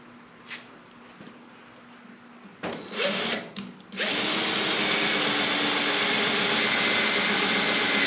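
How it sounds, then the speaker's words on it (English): Power drill driving screws into clamped wood, a few short whirring bursts and then a loud continuous high whine held up close until the end. "I'm gonna put some screws in it because it's under a little tension."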